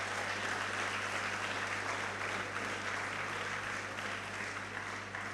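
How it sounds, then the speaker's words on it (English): An audience at a college fest in Birla Auditorium, SIT campus, Tumkur, claps loudly and steadily. The dense applause fills the hall throughout, with a low hum underneath. "Give them a big round of applause."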